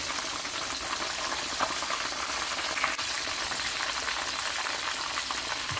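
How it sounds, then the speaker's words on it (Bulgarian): Fish fillets frying in hot oil, a steady dense sizzle and crackle running evenly throughout with small pops, close and fairly loud with no talk. "И така, аз ги пържа от 3 до 4 минути, зависи от филето."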